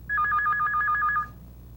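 Telephone ringing at home: a single rapid electronic trill burst, alternating two tones for about a second, loud and close against a quiet room.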